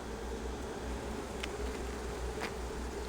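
Honey bees buzz steadily during a hive inspection, a dense, continuous drone close to the open hive, with no talk over it.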